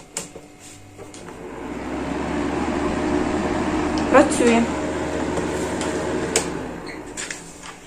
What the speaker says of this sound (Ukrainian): Зараз спробую до нього підключити ось такий обігрівач на режимі вентилятора.